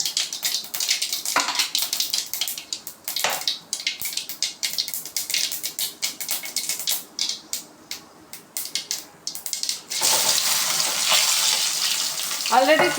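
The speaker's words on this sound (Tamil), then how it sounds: "சமையல் எண்ணெய் சூடம் ஆகிடுச்சு. ஸோ கடுகும் போட்டோம் நம்ம. அப்படியே படப்படன்னு பொரியுது பாருங்க." Mustard seeds popping and crackling in hot cooking oil for Tamil tomato rasam, a dense burst of sharp crackles close up that settles into steady sizzling.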